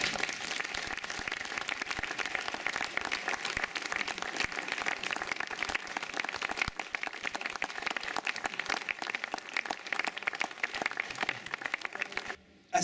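An audience at the naming ceremony for the Francesca Solleville media library in Antraigues gives sustained, even applause that stops abruptly at the end.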